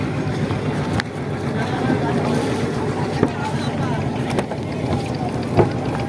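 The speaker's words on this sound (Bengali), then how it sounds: "আমরা ট্রলারে উঠে পড়েছি," A motorized trawler crossing a river near Gabura Union, Satkhira, gives a steady broadband engine drone mixed with wind buffeting the microphone, and voices talk faintly beneath it throughout.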